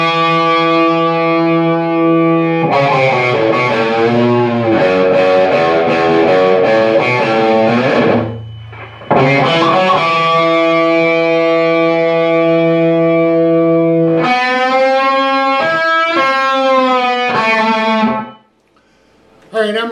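Electric guitar plays a lead solo from a song, through distortion and delay, with sustained notes and quick runs, loud and close, a brief gap midway and a cutoff near the end.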